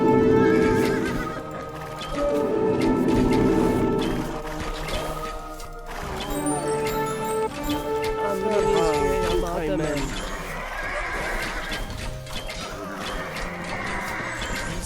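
Horses neigh and whinny repeatedly during an Age of Empires campaign game with the Seljuks, loud and prominent alongside hoof clip-clops and other game sounds, over steady game music with someone talking at times.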